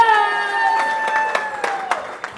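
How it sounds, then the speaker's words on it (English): An audience claps and cheers together for a couple of seconds, a dense rattle of hands with some sharper individual claps standing out, and a sustained musical tone running underneath. "So what you need to do is start your hands clapping, everyone."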